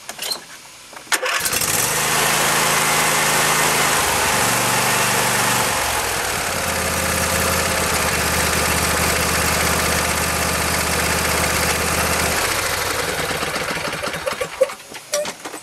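Husqvarna yard tractor engine with fresh spark plugs cranks briefly, catches and settles into a steady, loud, close idle for over ten seconds, changing pitch partway through, then shuts off.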